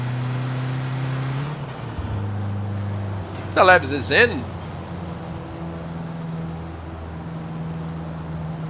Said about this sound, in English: Engine sounds on Forza.